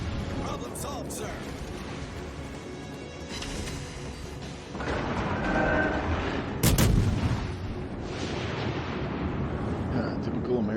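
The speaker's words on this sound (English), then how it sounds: "typical American torpedoes falling short" Torpedoes explode short of a ship in a naval battle, heard as dull rumbling booms under a constant low roar, with a sharp louder blast near the middle and voices talking over it.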